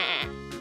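A person's voice imitates a sheep bleating with a short, wavering 'baa' sound, close and clear, followed by a brief breathy break.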